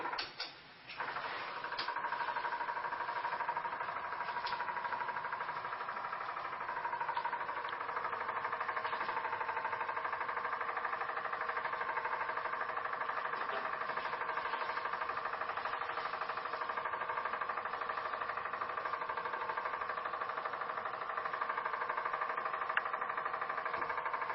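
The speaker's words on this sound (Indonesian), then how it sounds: "ini motor penggerak sedang aktif" Drive motor running inside an automatic egg incubator, a steady mechanical hum and whir that holds evenly throughout, with faint occasional clicks and no voices.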